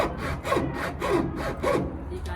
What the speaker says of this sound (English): Using a hacksaw.